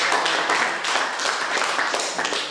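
A classroom of students applauds after group presentations in an art lesson, producing dense, close, continuous clapping from many hands without a break.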